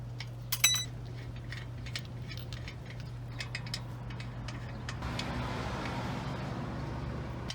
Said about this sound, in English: let's go ahead and put the wheel back on